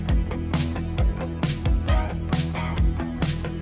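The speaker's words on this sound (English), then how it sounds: "in the context of the mix, this is what the main guitar sounds like" Main electric guitar playing a steady rhythmic pattern within a full pop mix for a pop-style beat, wrapped in room emulation reverb, with drums punching regularly underneath; loud and continuous, no talking.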